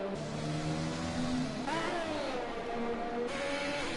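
F1 2020 video game race cars pulling out of the pits on soft tyres, high engines whining and shifting upward in pitch as they accelerate, loud and continuous with no speech.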